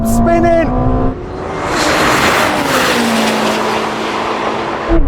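Lamborghini Temerario and Ferrari SF90 launching in a drag race, engines screaming loud and close with a rising tone, then a sustained roar as they accelerate away.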